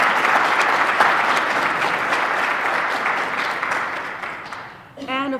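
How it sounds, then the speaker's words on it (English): A crowd applauds event sponsors in a large hall at a women's celebration event, loud sustained clapping that slowly fades before a voice starts speaking at the very end. "Let us give all of them a round of applause and thank them for their support"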